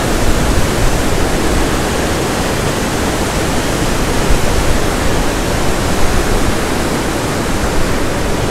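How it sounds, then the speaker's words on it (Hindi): Natural hot spring water at Manikaran rushes and flows continuously, a loud, dense, steady roar with no breaks and no voices. "नेचुरल गरम पानी आ रहा है।"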